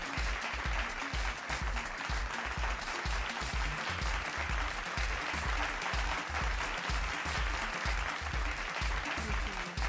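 Audience at the 5th Annual Mahindra Samriddhi India Agri Awards applauding an award winner from West Bengal coming on stage, with steady, sustained clapping from many hands at moderate level throughout.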